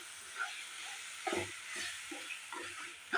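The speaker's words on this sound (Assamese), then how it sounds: "এইদৰে মলাইখিনি দি ল' ফ্লেমতে এইদৰে লৰাই আছোঁ" Fresh cream stirred and fried in a pan over a low flame for a homemade mithai: a soft continuous sizzle with a few light scraping strokes of the spoon, fairly quiet and close.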